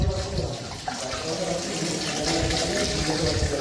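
Water is poured for cooking chicken biryani, a steady, continuous splashing rush that stays close and fairly loud throughout, with faint background voices.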